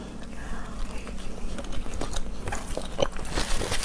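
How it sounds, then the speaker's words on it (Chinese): Close-up mouth sounds of a sea snail being eaten in a mukbang seafood meal: wet, crunchy bites and chewing clicks that repeat steadily throughout, close and fairly loud. "现在吃鲍螺。"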